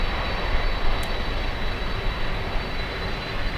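An airplane taking off at Miami International Airport, a steady, broad jet-engine roar heard from a distance and holding at an even level throughout, with no talking.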